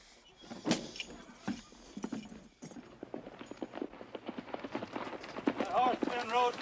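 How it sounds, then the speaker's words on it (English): Horse hooves clip-clop steadily on hard ground at a walking pace, moderately close, under quiet ambient noise. "That horse been rode pretty hard."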